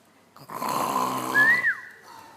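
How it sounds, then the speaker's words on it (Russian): A woman snores in a single long, loud, rasping inhale that rises into a whistling pitch before fading, heard close and alone. "Да точно она храпит."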